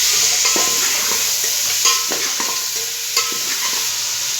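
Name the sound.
stirring tomatoes and browned onions in frying pan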